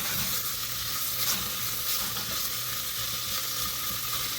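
Onions and spices frying in a pan for chole pulao, a dense continuous sizzle with crackling hiss, close and steady, with no talking.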